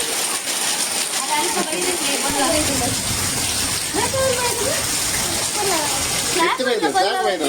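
Floodwater gushing and rushing steadily in heavy rain, a loud continuous hiss and splash close by, with voices talking over it throughout.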